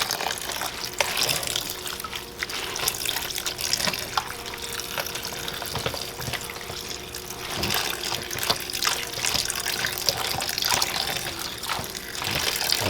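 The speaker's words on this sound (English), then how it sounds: "I'm rinsing it for the last time." A kitchen sink tap runs steadily as soaked food is rinsed beneath it, a loud close rush of water with splashing and trickling variation throughout.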